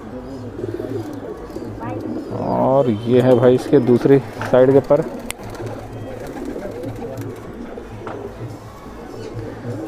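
Madrasi pigeons coo in a rolling burst of throaty calls that swells and fades midway through, close by over a steady low hum, while someone talks over the birds.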